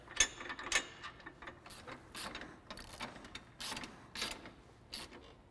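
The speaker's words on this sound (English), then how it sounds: "we'll come back and tighten everything down with a 15 millimeter socket and wrench" A socket wrench ratchets as bolts on a Polaris RZR RS1 front bumper are tightened with a 15 mm socket, making quiet, close clicking bursts in short irregular runs with brief pauses between them.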